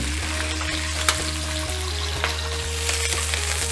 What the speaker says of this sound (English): Stir the beans occasionally and make sure you get that kind of roasted texture.